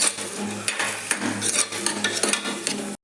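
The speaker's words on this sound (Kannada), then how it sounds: "ಈಗ ಈರುಳ್ಳಿ ಫುಲ್ಲು ಕೆಂಪಾಗೋವರೆಗೂ ಹುರ್ಕೋಬೇಕು ಫುಲ್ ಫ್ರೈ ಮಾಡ್ಕೋಬೇಕು ಕೆಂಪಾಗೋವರೆಗೂ" Sliced onions sizzle in hot oil with cinnamon, cloves and cardamom for chicken biryani, a steady loud frying hiss broken by the scrape and clink of a stirring spoon against the pan.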